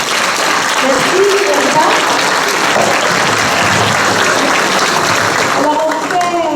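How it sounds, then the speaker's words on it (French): Guests at a fundraising dinner give sustained, loud applause that fills the room evenly from start to finish, with a few voices and cheers rising within it. "j'aimerais que tout le monde, on se donne une bonne main d'applaudissement"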